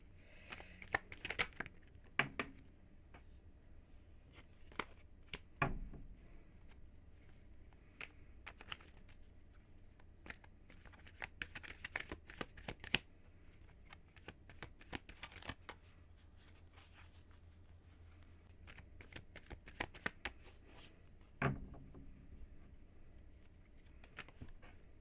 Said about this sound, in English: Let me shuffle these cards here.